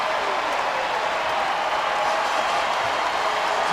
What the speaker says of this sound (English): Oweh from downtown acknowledges this raucous crowd at Rupp.